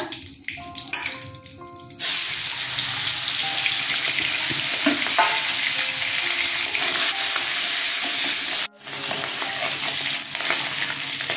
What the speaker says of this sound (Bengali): তেলটা গরম হলে পরে ছাড়বো মাথাটা।